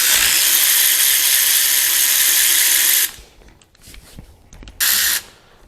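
A power tool whirs loudly and steadily on a 2009 Jetta TSI engine with a 10 mm socket, then stops into clicks and handling noises before one more short burst.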